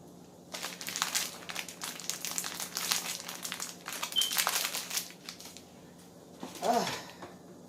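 Plastic pasta packaging crinkles and rustles in quick bursts while being cut open with scissors in a home kitchen, ending in a few short snips and handling sounds, with no talking.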